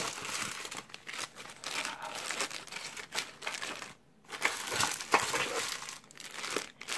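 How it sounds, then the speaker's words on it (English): Small game tokens from the Mice and Mystics board game are packed into a compact storage box, a close run of crinkly rustling and light plastic clicks, uneven and busy, with a short quiet gap midway. "And so you just pack all those tokens in."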